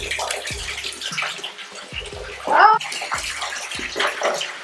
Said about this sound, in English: add some more water, hot water